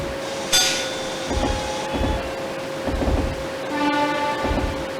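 Train arriving at Kamata station on the Keihin-Tohoku line in the Densha de GO! Professional video game, with a 209 series electric train's rumbling clatter, a brief horn-like tone and steady electric hum.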